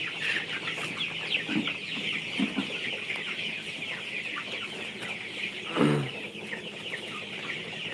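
Chickens cluck and murmur on a farm, a continuous flock chatter with a few louder squawks standing out, heard at moderate distance without talk.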